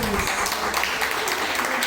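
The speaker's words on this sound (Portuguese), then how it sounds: "Aplauda o Senhor Jesus" A church congregation claps in praise, a brief burst of dense applause with some voices mixed in.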